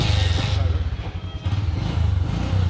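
A motorcycle engine putters and throbs close by in a fast, uneven rhythm, revving slightly as it pulls away, in Garchitorena, Philippines.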